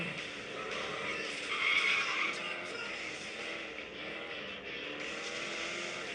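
A racing-game car roars loudly and steadily under hard acceleration, its engine note swelling then holding with a faint tyre-skid edge, continuous throughout with no talk.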